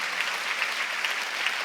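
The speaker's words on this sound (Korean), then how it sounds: "박수 치려면 세게 치라고" Steady, dense applause from a church congregation at a Sunday worship service, sustained and even throughout with no speech over it.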